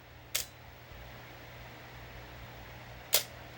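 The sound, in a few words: Canon New F-1 camera shutter firing at slow speed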